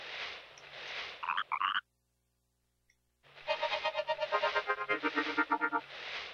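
A cartoonish frog croaks in the Chibi-Robo video game, with a short burst of chirpy croaks, a pause of silence, then a longer run of rhythmic, musical ribbiting syllables over a soft background tune.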